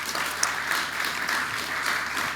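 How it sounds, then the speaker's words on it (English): Steady, dense applause from a conference audience after a talk on blockchain user experience, sustained and even throughout with no talk over it. "Let's give a round of applause to Brian."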